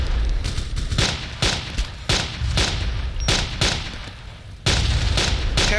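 Rapid bursts of video game gunfire in a realistic war simulator crack repeatedly in quick volleys, sharp and loud, with a brief lull before a final heavy burst.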